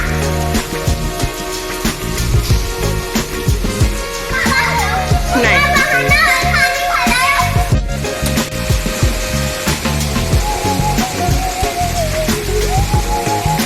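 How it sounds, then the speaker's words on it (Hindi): Heavy rain pours steadily and loudly on a house rooftop while children bathe in it. Their excited voices and splashing play rise over the constant downpour. "इतनी कस के बारिश हो रही है"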